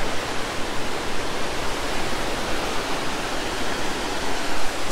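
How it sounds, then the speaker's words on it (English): High, fast water of the South Yuba River rushes and roars in a steady, dense wash, loud and close with no let-up and no voices. "Oh man, the water is raging again."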